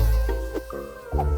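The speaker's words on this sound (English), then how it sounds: "We just have the biggest problems with the mosquito infestation in this condo." Mosquitoes whine near the ear inside a condo in the Philippines, a close, thin buzzing hum that wavers in pitch over a moment, with no talk.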